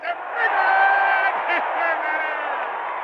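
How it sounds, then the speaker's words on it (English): Crowd cheering at a baseball game after a two-base hit with the bases loaded, a loud, sustained roar of voices and whoops that swells early and then holds steady. "The crowd's going wild."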